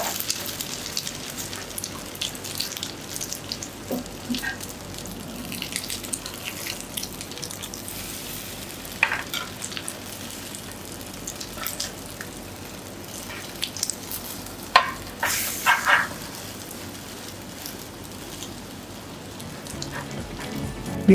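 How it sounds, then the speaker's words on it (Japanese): French toast fries in melted butter, a soft continuous crackle and patter of sizzling like light rain, steady and moderately close, with a few brighter spits partway through. "バターが溶けたら先ほどのフレンチトーストを入れていきます。"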